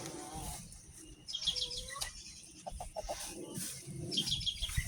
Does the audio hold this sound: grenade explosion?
no